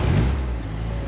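A rebuilt Fiat 124 Spider engine fires up and settles into a loud, rough idle, a thick low rumble heard close by with no one talking.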